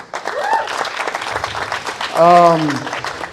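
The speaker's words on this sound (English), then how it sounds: "Give them a round of applause." An audience gives a round of applause at a conference talk in Mexico, a dense wash of clapping under and after a voice.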